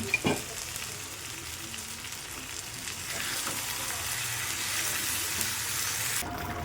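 Jumbo soybean chunks and cauliflower curry sautéing in a pan, a steady close sizzle and fry that grows slightly louder midway, with faint stirring scrapes and no talk.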